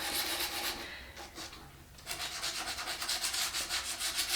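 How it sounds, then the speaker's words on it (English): Red painted soles of Louboutin shoes being sanded, rhythmic back-and-forth rasping strokes, loud and close, with a short pause before the strokes resume faster; no talk. "Alright, sand, sand, sand."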